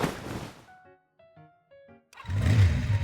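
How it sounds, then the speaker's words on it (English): Sylus's motorcycle in the game Love and Deepspace roars to life at night: a few soft tonal chimes, then a sudden loud, close engine burst that keeps rumbling deep and steady. "The engine roars to life as Sylus tosses me a helmet"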